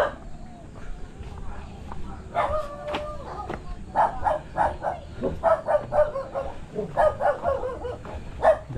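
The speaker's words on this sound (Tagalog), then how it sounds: "Daming aso rito." Several dogs bark in short, repeated bursts from different distances in a residential area of Salang Matanda, Tanay, some barks close and loud, others fainter, with a rooster-like call and scattered background noise.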